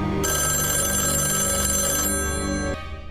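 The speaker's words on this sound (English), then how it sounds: "That phone has been ringing for 3 minutes straight." A telephone rings loudly and continuously with a bright, buzzing bell tone that fills most of the moment before cutting off abruptly near the end, with no talking over it.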